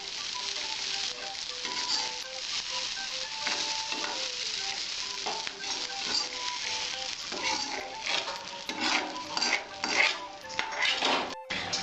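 Fried bitter gourd pieces are lifted out of a sizzling pan, with repeated metallic scrapes and clinks of a utensil against the pan over a soft, continuous fry.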